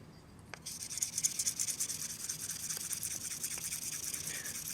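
A stainless straight razor stroked back and forth on a hone lubricated with mineral oil, giving a soft, continuous rhythmic rubbing close by with no talking.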